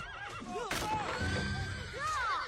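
A horse whinnies in a long, wavering neigh, then neighs again near the end, loud and close, with a sharp thump in between and faint hoof clatter under it.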